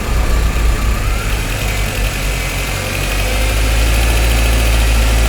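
A car engine is lightly accelerated while the alternator charge is checked, giving a steady, loud mechanical hum with a rumbling low end and no voices.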